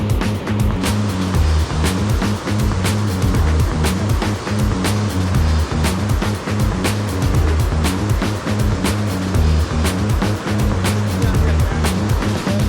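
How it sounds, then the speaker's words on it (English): Water rushes hard and steadily down natural rock slides at a waterfall in Da Lat, Vietnam, a loud continuous roar close by with churning turbulence throughout. "and now we're starting the water slides"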